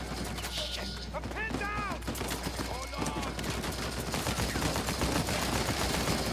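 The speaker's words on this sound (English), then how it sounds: "Blind fire." Blind-fire gunshots in Uncharted 4 come as rapid bursts of sharp cracks. They are mixed with game sound effects and a brief squeal, and a voice talks at moments.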